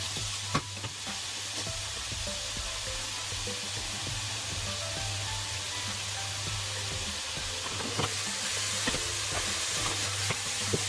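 Bacon bits and onions sizzle in a frying pan with a steady, close hiss, with occasional stirring clicks and pops and no talking.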